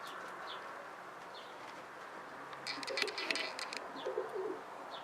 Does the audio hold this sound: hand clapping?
no